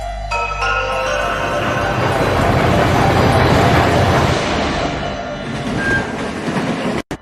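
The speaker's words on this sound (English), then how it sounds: "This is how you travel by train, zipped along at a bracing 25 kilometers per hour" An open-air train in an anime episode rolls steadily along with a dense, loud rumble and rattling, with a brief sharp cut near the end.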